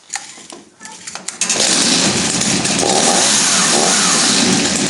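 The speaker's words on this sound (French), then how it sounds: "Voilà, donc là elle a démarré." A chainsaw engine, just started, runs loud and steady after a few seconds of quieter handling sounds, a continuous high buzzing drone that holds its level to the end.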